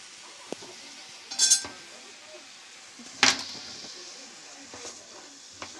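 A spoon stirs mushrooms in a frying pan, with two brief scraping clinks standing out over a quiet sizzle and scattered small kitchen knocks.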